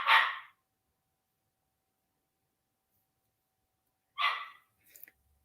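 A little pup gives two sharp, isolated barks about four seconds apart, the second followed by a faint yip, close and clear against silence.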